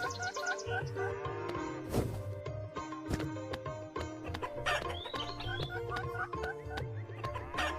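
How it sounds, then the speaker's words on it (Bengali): A cartoon chicken clucks repeatedly while being chased, its short clucks mixed with sharp sound effects and busy background music. "মুরগিটাকে ধরার চেষ্টা চলছে মিঠু তার সাথে মুরগিটাকে তাড়া করছে"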